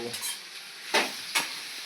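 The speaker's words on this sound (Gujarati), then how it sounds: "હવે જાગુ ભીંડા વઘારી રહી છે" Chopped okra sizzles in hot tempering oil in a home kitchen pan, a steady close hiss broken by two sharp stirring scrapes near the end.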